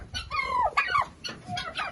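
Farm hens cluck in short, rising and falling calls, several birds close by and fairly loud, with a few quick bursts after brief pauses.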